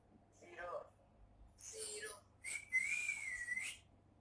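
A man gives a short, rising-and-falling whistle in a classroom physics lecture, preceded by brief talk-like vocal sounds; the whistle is clear and close, lasting about a second.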